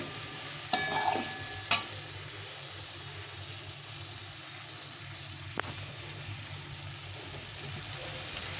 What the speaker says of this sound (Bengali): এখন আমি ভেজে রাখা যে সবজিগুলো এগুলো দিয়ে দেবো সবগুলো সবজি একটু নেড়ে চেড়ে নিতে হবে